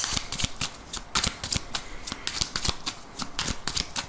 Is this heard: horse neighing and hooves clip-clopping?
no